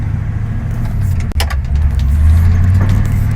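A 1981 Chevy Scottsdale K10 squarebody pickup truck engine idles steadily up close, a low continuous rumble with a brief click partway through.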